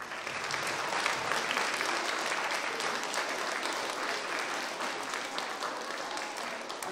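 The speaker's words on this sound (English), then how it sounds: "Let's give them one more big round of applause." Parents and guests in a school auditorium give a beginner band concert's first-year players a long round of applause, with dense, sustained clapping that stays steady from start to finish and has no talking over it.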